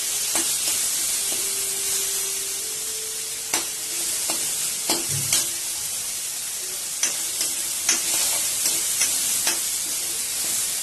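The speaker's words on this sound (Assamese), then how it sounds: "আমি অলপ সময় এনেকৈ ফ্ৰাই কৰি থাকিম বিলাহীখিনি যেতিয়ালৈকে গলি নাযায় তেতিয়ালৈকে।" Tomatoes frying in a pan, a steady sizzle with scattered sharp clinks and scrapes from stirring, close and continuous, with no talk.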